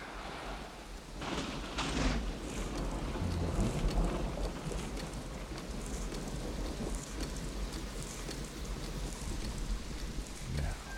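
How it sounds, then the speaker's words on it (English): Rain in a film scene, a steady hiss of falling rain with some wind, continuous and fairly soft, with faint voices and a few thumps underneath. "And, of course, it rains."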